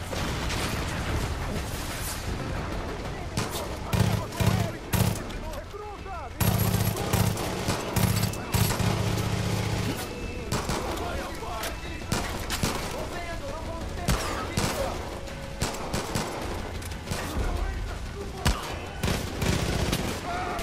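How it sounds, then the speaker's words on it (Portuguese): Far Cry 5 gunfire rattles in dense, rapid bursts, with machine-gun volleys and heavier booms layered over a busy game soundscape while a voice speaks now and then. "Quem tá disparando?"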